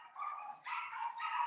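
A pet dog lets out faint, drawn-out whining yelps in a home during a piano lesson, a few muffled vocal bursts with no piano clearly audible.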